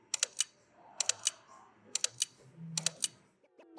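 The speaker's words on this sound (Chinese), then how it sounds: "在按快门的时候，也是这个哈苏客制化的拍照音效" Several quick crisp shutter clicks from the custom Hasselblad camera sound on an OPPO Find N2 folding phone, arriving in three short bursts of two or three clicks each, close and clear over a quiet background.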